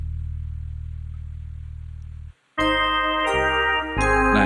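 An organ-style bass voice on a Yamaha PSR keyboard in vintage mode holds a sustained low note, then after a short gap gives way to brighter held organ chords that change twice.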